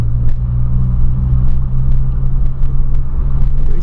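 A Volkswagen Polo sits with its engine running loud and close, a steady deep rumble with a strong low hum and faint clicks above it. The tone holds level the whole time and never clearly climbs, and no one speaks.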